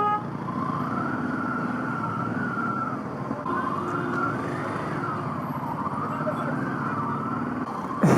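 City road traffic while driving in Yaoundé, Cameroon, a constant engine and tyre rumble inside the car with a wavering siren running through it at moderate distance.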